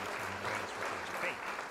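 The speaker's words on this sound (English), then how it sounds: "Have a round of applause." Audience applause ringing out at a live reveal event, a steady broad wash of clapping that holds for a couple of seconds, with some voices mixed underneath.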